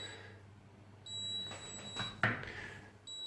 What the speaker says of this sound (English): Just ignore that beeping